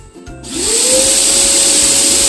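An electric air blower whirs up from a brief rattle and settles into a loud, steady high-pitched drone as it inflates a mini pool, close by with no talk.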